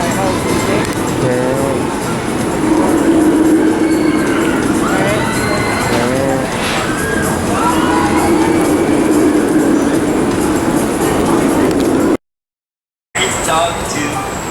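The Serengeti Express train at Busch Gardens rolls along with a steady rumble and track noise while a tannoy voice talks over it. A brief silent gap falls near the end, and then the rumble resumes.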